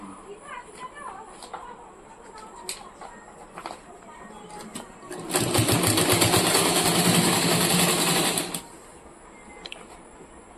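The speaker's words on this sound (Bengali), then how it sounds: "চলো ডাইরেক্ট সেলাই করে দিই" A sewing machine stitching straight through thick, unfolded fabric: a steady, loud mechanical whirr lasting about three seconds, close by, with quieter background sounds and faint clucking before and after.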